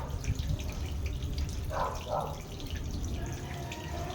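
Tap water runs and splashes steadily while a cat is bathed, close and moderately loud, with people talking over it.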